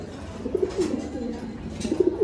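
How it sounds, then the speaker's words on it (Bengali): Soft, low pigeon cooing repeats in gentle bursts close by, over a faint background hum. "আর এটা হচ্ছে একটা কিটেল লাইনের কবুতর"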